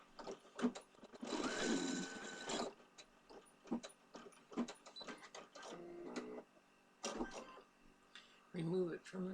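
An embroidery machine stitches hat material held in a hoop, giving a loud burst of dense mechanical whirring followed by shorter intermittent clattering runs, with pauses between them.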